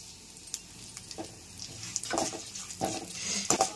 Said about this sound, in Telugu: ఈ పప్పులన్నీ కాస్త వేగిపోయిన తర్వాత చివరిలో నువ్వులు వేసుకుందాం